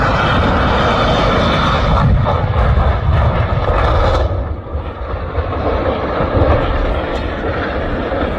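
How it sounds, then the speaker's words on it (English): Loud, rumbling roar of an airplane hitting a runway hard and breaking apart, with a heavy turbulent crash of noise that dips briefly midway, then rumbles on. "This plane slams down hard and literally breaks in half on the runway."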